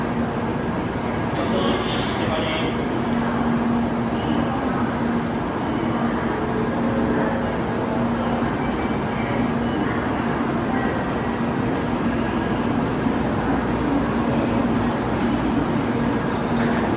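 A Japanese Shinkansen bullet train rushes by in a steady, dense roar with a faint whine, sustained and fairly loud throughout, no talking.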